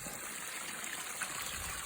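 Water wells up from below through a 25 cm bed of 4–8 mm gravel in a garden pond bog filter fed by perforated 50 mm pipes, giving a steady, close, even trickling flow with no voices.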